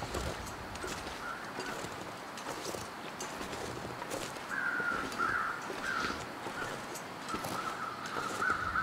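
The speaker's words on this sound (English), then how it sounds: "Birds be noisy." In the game The Long Dark, birds call repeatedly outdoors, harsh caws rising over a steady background with light footstep-like rustling.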